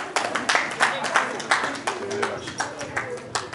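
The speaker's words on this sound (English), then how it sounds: "can we have a nice round of applause for that?" Hand clapping at a birthday celebration and magazine launch party, a modest group applauding in uneven bursts with distinct claps, fairly close, as voices talk over it.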